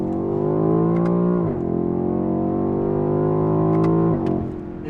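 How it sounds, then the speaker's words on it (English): A BMW X6M with a valved sport exhaust growls loud and close through a couple of downshifts, its engine note dropping and surging in quick steps with no talk over it. "a couple of downshifts."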